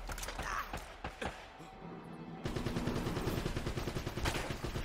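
Rifle fire from an M16-style gun in Uncharted, heard as rapid, rattling automatic shots that thicken into a continuous burst partway through, fairly quiet and mixed with mechanical clatter.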